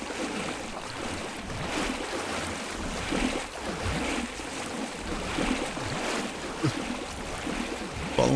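Water in the flooded pool rooms of the Backrooms game, a steady close wash of lapping waves and sloshing with soft rhythmic surges, continuous throughout with no talking.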